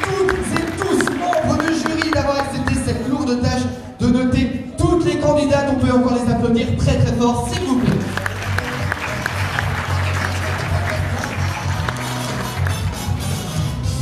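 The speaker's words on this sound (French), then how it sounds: "on peut l'applaudir très fort" Audience applauding at a pageant evening for the Ambassadrices de France 2019, loud clapping that swells over a tonal backdrop and then continues as dense, sustained applause.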